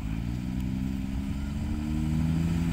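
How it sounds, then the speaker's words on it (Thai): A car engine drones loud and steady at close range as the driver drops into a low gear, holding an even, throaty mid-range hum without any rev spikes throughout. "สับเกียร์ต่ำครับ"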